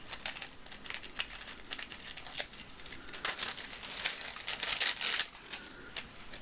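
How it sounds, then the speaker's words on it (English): A paper sticker for a taupe planner being torn and peeled off its sheet, close crinkly rips and crackles in short bursts with a louder flurry near the end, no one talking. "Let's tear down that a bit."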